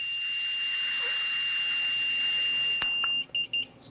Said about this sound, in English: when you hear it double beep, just pick this up and blow into it until it double beeps